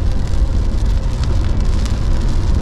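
Heavy rain pours down during a road trip drive toward Ljubljana. It makes a dense, steady roar mixed with road and engine noise and lasts the whole stretch, with no voices.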